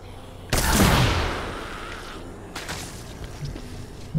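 The Peacemaker weapon in the video game Dead Rising 3 fires in a heavy, booming blast that decays slowly. A second, weaker shot follows about two seconds later over a steady background rumble.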